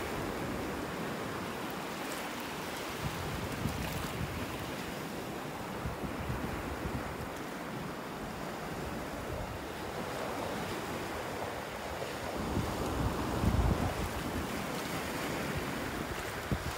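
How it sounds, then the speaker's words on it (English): Ocean surf rolls onto a beach, washing sea foam ashore on a breezy day, a continuous broad roar of waves with wind buffeting the microphone and a louder surge near the end, no talking. "Got the sea foam coming up on the beach."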